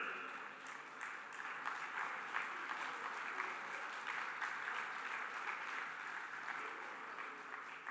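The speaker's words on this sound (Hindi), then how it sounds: "एक बार खड़े होकर जोरदार तालियां अमित जी के लिए बजा दें" Steady applause from a seated conference audience that has been asked to stand, a continuous wash of clapping held at an even level for several seconds, slightly distant.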